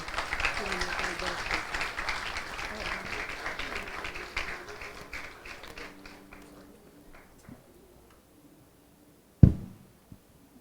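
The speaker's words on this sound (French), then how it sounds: "On nous applaudit Damien Jean Pichot." A church congregation at Deliverance Worship Center applauds Damien Jean Pichot, with dense steady clapping that thins and fades after several seconds, then a sharp isolated thump near the end.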